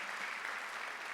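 A church congregation at a Sunday worship service claps together in steady, dense applause that fills the room without pause.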